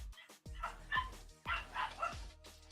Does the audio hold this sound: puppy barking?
yes